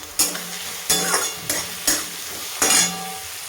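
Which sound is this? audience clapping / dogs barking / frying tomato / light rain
frying tomato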